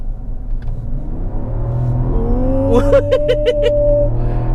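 Mazda CX-60 six-cylinder engine accelerating on a toll road: a steady low rumble swells into a rising engine note, loud and close, with rhythmic pulses toward the end.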